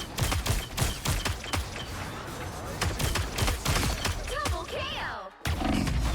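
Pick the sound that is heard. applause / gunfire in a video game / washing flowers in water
gunfire in a video game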